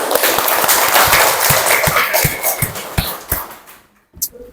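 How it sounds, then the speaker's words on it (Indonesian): Students in a classroom clap in a loose, uneven burst with distinct close hand claps that thin out and stop near the end. "tepuk tangan"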